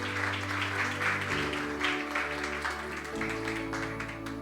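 A church congregation claps during an evening service, a rolling burst of applause over sustained organ-like music chords, fairly loud and continuous.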